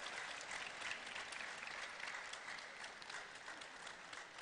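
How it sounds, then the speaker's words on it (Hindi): An audience applauds a child at a gathering, a dense, steady burst of many hands clapping together that holds evenly throughout, fairly distant and without talk. "पहले तो इस बच्चे के लिए ताली बजा दो भैया, जोरदार बच्चा है।"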